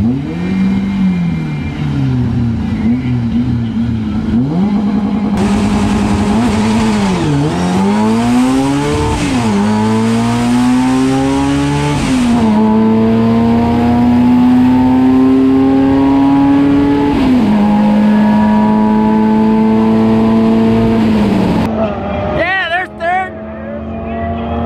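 A Kole truck engine revs hard while driving laps, its pitch climbing and dropping in repeated sweeps before settling into a long steady drone, loud and close throughout, ending abruptly.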